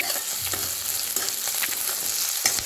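Onion and green chili saute in a pan with coconut, garlic and ginger paste, making a continuous sizzle broken by repeated scraping strokes of a spoon, close and steady.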